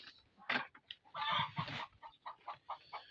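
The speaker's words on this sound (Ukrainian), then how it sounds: "а, курка кричить, занеслась" A hen clucks and squawks loudly in a rapid series of calls, close by, with no talk over it.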